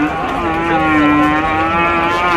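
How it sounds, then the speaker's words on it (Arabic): A calf moos loudly and close by at a livestock market for fattening calves, one long sustained bellow that fills the whole moment. "هذا سوق عجل الأرباط أو عجل التسمين"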